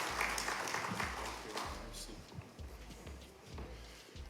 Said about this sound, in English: let's welcome Dr. Siapazi with a round of applause.